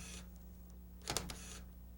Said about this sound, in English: If we cover the lens, you should hear the shutter give a slow exposure